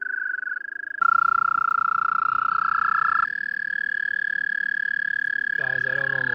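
An American toad's long, steady high trill sustains for several seconds at close range, breaking briefly and resuming at a slightly shifted pitch, loud and alone apart from a faint rattle near the end.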